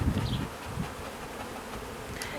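Honey bees hum around an urban hive during a new-queen check, a close, even buzzing with a few louder passes of single bees near the start.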